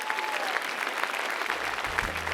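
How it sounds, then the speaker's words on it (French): A church congregation applauding the Lord at a Sunday morning service, a continuous crowd of clapping hands, moderately distant and steady throughout. "Applaudissons le Seigneur ce matin."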